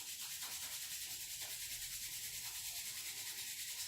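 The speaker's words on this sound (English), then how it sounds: "Bring your hands together and rub your hands." Palms rubbing briskly together during a gentle yoga stretching session, a steady continuous swishing friction sound, close and quiet, with no talking.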